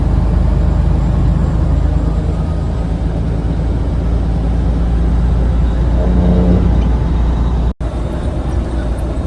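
A Freightliner Cascadia truck drives steadily, its engine a loud continuous drone and rumble close by for the whole stretch, briefly cutting out near the end.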